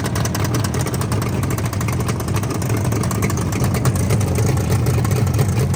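A rebuilt Yamaha RD motorcycle engine runs at a steady idle, a continuous close, even mechanical drone with no talk over it.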